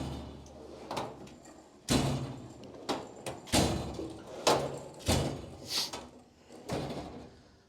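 Snap-On toolbox drawers slide and bang repeatedly, a series of rolling thumps and clunks at irregular intervals, close by; one drawer sticks before coming all the way out.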